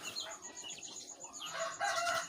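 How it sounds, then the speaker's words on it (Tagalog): Hungry brown Dekalb chickens in a pen cluck and call together, a busy flock chorus that grows louder and denser toward the end. "ayan na yung mga gutom na gutom na aking mga manok"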